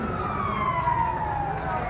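A fire truck siren sounds as it arrives at a burning house in Savannakhet province, Laos, one long wail sliding steadily downward in pitch, moderately loud over a background murmur.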